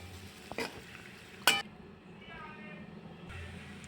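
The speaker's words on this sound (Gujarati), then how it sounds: "आपणे हळवे हाथे मिक्स करवानुं छे।" Sabudana khichdi is gently mixed in a pan, giving soft scraping and a couple of sharp utensil clinks against the metal, while someone talks over it.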